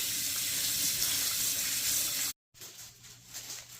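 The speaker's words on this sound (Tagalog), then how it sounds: "Hugasan din natin yung ating vegetables." Tap water runs steadily into a sink as vegetables are washed, a loud continuous gush broken by one brief cutoff before the flow resumes.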